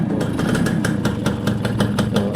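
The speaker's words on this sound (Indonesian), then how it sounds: "sekali starter juga udah nyala" A Suzuki A100 motorcycle engine starts and settles into a steady, rhythmic idle with evenly spaced firing pulses, close and fairly loud, with no talk.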